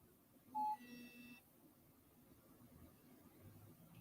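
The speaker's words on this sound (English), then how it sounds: "One of my watch phone just beeped on me, and it's not even charging up." A brand-new watch phone gives a single short electronic beep, faint against quiet room hiss, followed by a brief soft tonal chime and then near silence.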